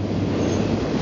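A two-mile-long freight train of double-stacked containers rumbles through Banff, a dense, steady low roar of passing railcars heard close and loud.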